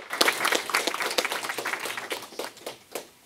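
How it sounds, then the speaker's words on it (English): Short round of audience applause for panel speakers at a conference, individual claps distinct and fairly close, tapering off over about three seconds. "Another round of applause."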